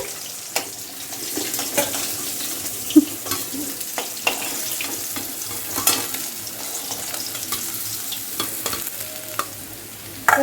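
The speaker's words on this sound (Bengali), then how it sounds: "মাছগুলোকে ভেজে ভেজে তুলে নিচ্ছে" Pieces of katla fish fry in hot oil, a soft steady sizzle close by, punctuated by scattered clinks and scrapes of a utensil moving the pieces in the pan.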